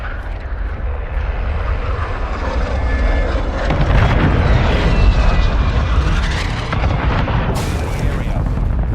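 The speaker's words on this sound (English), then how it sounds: "Enemy precision airstrike. Find cover." Enemy precision airstrike in a video game: loud, continuous rumbling blasts with a roaring aircraft-like drone, swelling heavier midway and ending in a sharp, bright burst.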